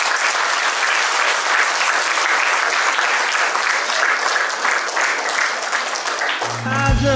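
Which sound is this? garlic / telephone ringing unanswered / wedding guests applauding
wedding guests applauding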